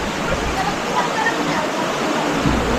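Steady, broadband rush of river water flowing close by, loud and unbroken throughout with no voices, heard at a riverside in Dingalan, Aurora.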